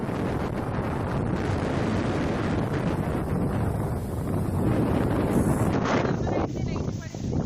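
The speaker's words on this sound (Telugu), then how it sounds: "పెనుగాలులు వీస్తున్నాయి" Strong cyclone winds from Cyclone Fani lash the Srikakulam district coast, roaring steadily as loud, buffeting gusts batter the microphone, with a brief lull near the end.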